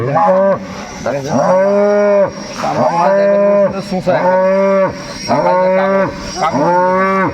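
At a cattle market, cows and a young bull moo loudly and repeatedly, several long, drawn-out, tonal calls following one another closely, near and prominent.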